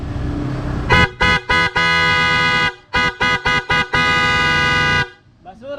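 A loud, brassy PIAA horn on a Honda Click scooter blares in a series of blasts: a long tone, several short rapid honks, then a sustained blast, close to the microphone.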